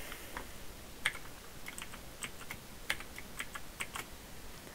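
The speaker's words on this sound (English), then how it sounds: "So we're going to type that in." Keys on a computer keyboard are tapped in quick, irregular clicks and short bursts, close and fairly quiet, with no voice over them.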